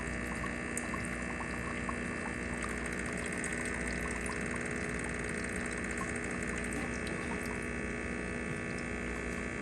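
A Gaggia Parros espresso machine's pump drones steadily while pulling a shot, a constant close buzzing hum with faint liquid trickling and no pauses.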